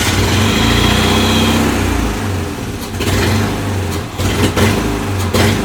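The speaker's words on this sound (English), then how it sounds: "Let's see if this engine will actually start." A Mazda car engine cranks and catches, then runs at a steady, loud rumble; after a few seconds the note turns rougher and uneven, with irregular surges and dips close by.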